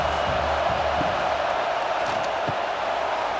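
A home stadium crowd in College Football 26 roaring in a steady, loud, broadband wash of cheering and noise that holds throughout, with faint scattered thumps within it.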